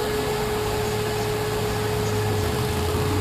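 A race car engine idles in the pits while overheating, a steady drone with a constant low rumble and a sustained tonal hum, unchanging throughout.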